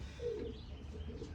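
Pigeons cooing, recently arrived birds from Belgium, a soft low coo heard faintly and briefly against quiet background noise, with no talk.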